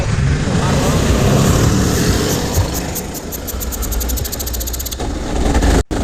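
Loud, steady engine roar from racing cars in a rain-soaked first free practice session, sustained throughout with a rough low rumble, cutting off briefly near the end.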